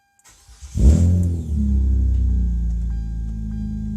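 A Hyundai Tiburon V6 engine cranks briefly after a starter replacement, catches, and settles into a steady idle hum, close by.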